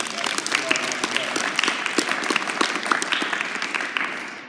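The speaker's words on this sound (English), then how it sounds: "Give Chris a round of applause on that." A small group applauds a basketball dribbling workout participant, scattered claps filling the space with voices chattering underneath, moderately close and steady before tapering at the end.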